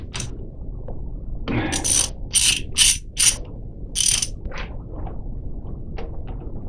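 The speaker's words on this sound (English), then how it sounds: "I think I need my ratchet back." Ratchet wrench working on a 1925 Model T Ford during cylinder head removal: a few short bursts of metallic clicking close up, separated by pauses and scattered small clanks in a quiet garage.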